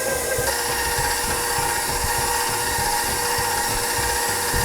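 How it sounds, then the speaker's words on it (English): An electric mixer beats vanilla into cake batter for a strawberry shortcake until it turns light and fluffy. The motor gives a loud, steady whir that runs the whole time, with no talking. "Now I'm going to mix it all together until it's light and fluffy."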